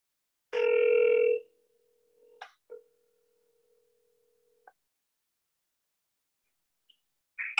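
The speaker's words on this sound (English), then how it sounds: "Let's go ahead and dial James." An outgoing phone call: a loud burst of ringback or dial tone, then a long quieter steady tone and a few short clicks or beeps, heard alone with no talking.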